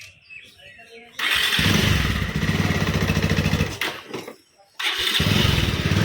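A motorcycle engine runs loud and close, roaring to life after a quiet second, then revving steadily. It dips briefly near the end before surging back up.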